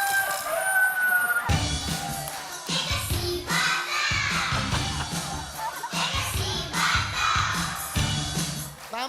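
Chickens cluck and a rooster crows repeatedly in a busy, noisy yard, with overlapping bird calls throughout.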